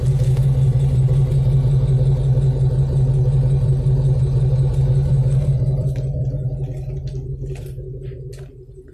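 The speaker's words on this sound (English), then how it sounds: "This has a Magnaflow exhaust on it." A car with a Magnaflow exhaust idles close by in a steady, deep rumble with a strong low drone, then gradually quietens over the final few seconds as the engine note fades, with no talk over it.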